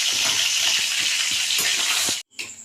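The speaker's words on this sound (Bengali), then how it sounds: "যে মাছগুলো আছে বাদ বাকি সেগুলোকে ভেজে নেবো" Bhola fish frying in hot oil, a dense, loud, continuous sizzle close by with faint stirring, cutting out abruptly before a brief, softer sizzle returns.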